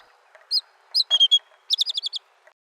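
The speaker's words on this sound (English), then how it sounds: "the mockingbird did the real singing from her hiding place in the tree" A mockingbird sings alone in short bright phrases: a few separate chirps, then a rapid run of six repeated high notes, clear and fairly close.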